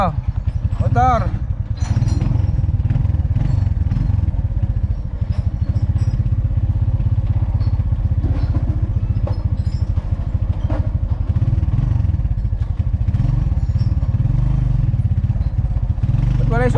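A motorcycle engine runs with a low, continuous throbbing rumble throughout, while people talk briefly over it.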